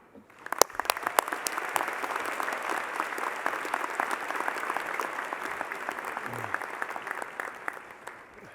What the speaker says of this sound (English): Please join me in welcoming Brian.